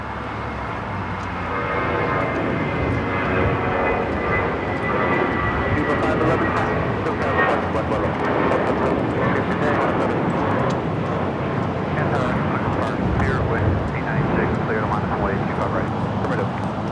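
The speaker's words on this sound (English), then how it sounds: "That was Viva Airbus 511 taking off to Guadalajara on the A320 Club America" A Viva Aerobus Airbus A320 takes off from LAX bound for Guadalajara, its engine roar building after a quieter start and holding steady, with a person talking over it.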